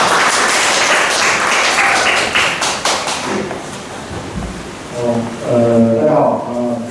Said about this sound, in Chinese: 我们就给讲师掌声鼓励一下